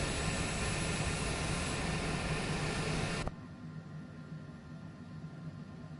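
An airliner taxiing at a large airport in Microsoft Flight Simulator 2024 gives a steady, broad engine rumble that drops abruptly to a quieter idling hum about halfway through, with no voices.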